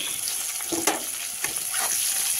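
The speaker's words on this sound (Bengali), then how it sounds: "পেঁয়াজটা আমি লাল লাল করে ভেজে নেব একটু।" Chopped onions frying in hot oil in a wok give a steady, close sizzle throughout, with a few sharp scrapes and clinks of a spatula stirring them.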